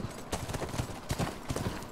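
Horse hooves galloping in The Last of Us, a quick rhythmic clip-clop of hoofbeats at close range, loud and continuous across the short stretch with faint background game ambience.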